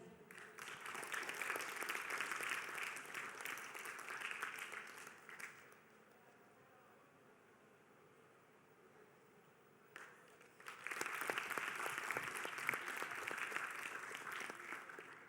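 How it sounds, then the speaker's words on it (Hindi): An audience at a youth parliament session claps warmly to welcome a guest on stage, a dense burst lasting several seconds, then a quiet lull before a second loud round of applause. "जोरदार तालियों से स्वागत करते हैं मिस मबीता जी का।"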